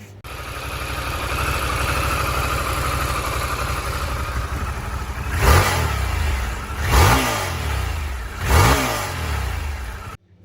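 An instrument mimics the stock exhaust of a Harley-Davidson Pan America motorcycle: a steady, loud idle-like drone broken by three sharp revving blips near the end. No talking is heard.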